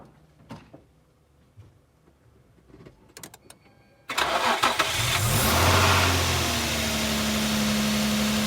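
A car started with a Xiaomi 70mai jump starter: a few sharp clicks and taps, then the engine abruptly cranks and catches with a loud roar and settles into a steady, close idle, with no talking.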